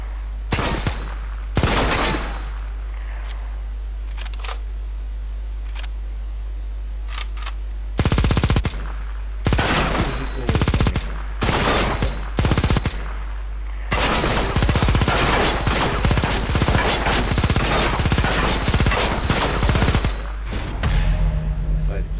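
Bursts of heavy-weapon machine-gun fire in the shooter game Eximius, short volleys early, then a string of separate bursts and a sustained stretch of rapid loud firing near the end, over a constant low hum.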